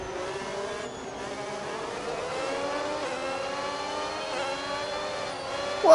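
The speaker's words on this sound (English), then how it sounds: "Oh man, this Ford engine sounds good." A Ford-powered Formula 1 car in the F1 26 video game screams through the gears, its high engine pitch climbing and dropping with each shift in a steady, fairly quiet rising whine.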